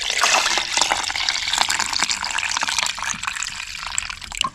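Fresh watermelon juice pours into cups with a close, continuous splashing trickle that swells and eases as each cup fills.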